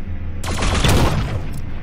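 Gunshots in The Signal from Tölva, a brief cluster of sharp, loud cracks fired in quick succession, with a booming tail that trails off.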